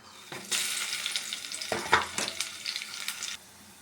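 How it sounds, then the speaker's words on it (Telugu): Garlic and spices for tempering sputter in hot oil. A loud, dense sizzle bursts in, holds steady with crackling peaks for about three seconds, then cuts off sharply. "ఆయిల్ వేడైంది తాలింపు వేసుకున్నాం"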